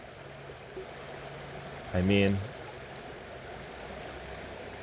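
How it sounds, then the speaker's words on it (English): A flowing creek gives a steady, soft rushing of water throughout, with a brief spoken voice rising over it midway. "The creek is going really nice."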